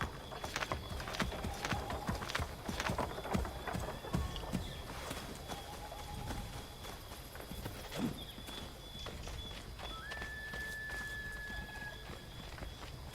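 A horse's hooves clip-clop steadily at a walk in Assassin's Creed III Remastered, close and rhythmic over a low ambient bed, with scattered game tones and faint background sound.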